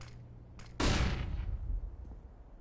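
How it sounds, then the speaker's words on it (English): A flashbang grenade going off in the video game CS:GO, one sudden loud close bang after a couple of faint clicks, then a rumbling tail fading over about two seconds. "Throwing a flashbang."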